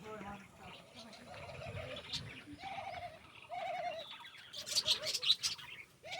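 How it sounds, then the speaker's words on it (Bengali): Doves and pigeons cooing and chirping outdoors in a park, with short repeated calls spread over several seconds alongside background bustle, ending in a denser burst of higher chirps. "ঘুঘু আর কবিতর।"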